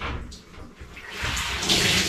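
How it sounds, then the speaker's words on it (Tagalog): Water gushes out of a washing machine in a short splashing pour, rising louder toward the end. "Ang daming tubig."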